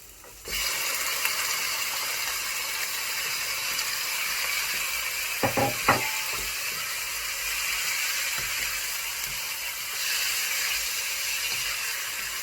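Meat fries in a pan with golden onions, a steady bright hiss throughout with a few sharp crackles near the middle.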